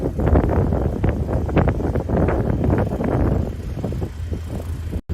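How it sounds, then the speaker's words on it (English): Steady low buffeting rumble of wind hitting a microphone outdoors in Ottawa during a morning walk, loud and continuous throughout, with gusty bursts and a sudden dropout near the end. "it's quite windy here in Ottawa this morning."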